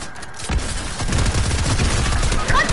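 Video game gunfire plays as a continuous, dense rattle of rapid shots after a brief lull, loud and close, with a muffled rumble underneath.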